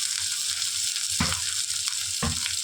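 Green chillies and onion hit hot oil with curry leaves for a fish curry, giving a loud, steady sizzle with two heavier scraping stirs partway through.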